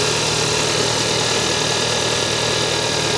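A Hyundai car engine running, a steady close idling drone with a constant hum and no voices.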